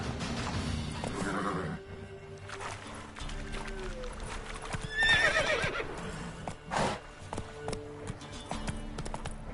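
Roach, the Witcher's horse in a video game, neighs and whinnies with hoof clip-clop over a steady game soundscape, a sharp bright whinny rising in the middle.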